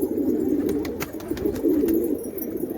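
Pigeons being raised for a racing tournament coo in soft, low repeated bursts while pecking at scattered feed, nearby and fairly clear, with faint clicks of beaks on grain over a steady background.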